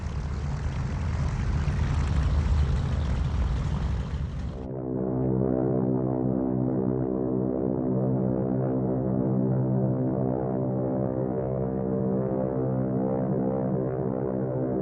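A Martin B-26 Marauder bomber's propeller engines roar loudly, first as a broad rushing blast, then as a steady, throbbing drone that continues evenly to the end.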